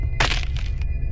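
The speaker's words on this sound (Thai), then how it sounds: "กูได้ยินเสียงคอกูหัก" A sharp neck-snapping crack in the horror game SCP Containment Breach, a single loud broadband snap with a short crunchy tail, heard alone over a low game drone.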